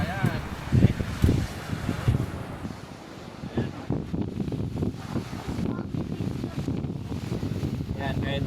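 Strong typhoon wind on a beach at Calilayan Cove during Typhoon Inday, loud gusty buffeting that batters the microphone in uneven surges, with people talking over the rushing noise.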